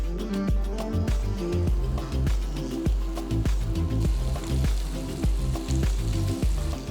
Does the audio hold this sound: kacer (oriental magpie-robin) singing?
no